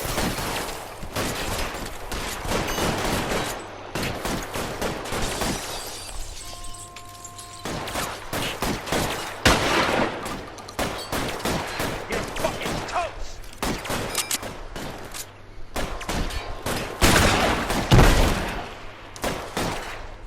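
Dense, sustained gunfire from a gunfight in the video game L.A. Noire, with overlapping shots and bursts crackling continuously for about twenty seconds over a steady low game hum.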